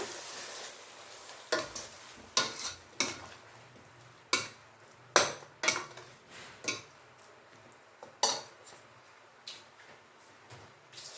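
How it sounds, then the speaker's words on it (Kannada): A spoon scrapes and clacks through ground masala added to palak and green pea gravy in a pan, irregular stirring knocks sounding over a soft sizzle, close and fairly quiet. "ಚೆನ್ನಾಗಿ ಮಿಕ್ಸ್ ಮಾಡೋಣ."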